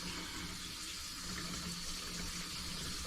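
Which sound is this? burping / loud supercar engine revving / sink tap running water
sink tap running water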